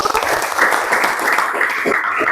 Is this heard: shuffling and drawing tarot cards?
no